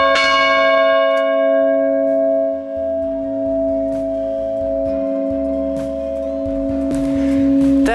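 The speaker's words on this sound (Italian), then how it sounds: "Seconda campana, baldini." Second church bell of Santa Maria in Castel del Piano, cast by Baldini, ringing with a long sustained hum and bright overtones that decay slowly after each stroke, loud and close with no voices.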